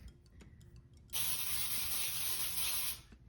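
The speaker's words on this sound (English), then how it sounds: "we want to spray our baking sheet" A pan spray can sprays cooking spray onto a pizza baking sheet in one steady, loud hissing burst lasting about two seconds, close by, preceded by faint kitchen clatter.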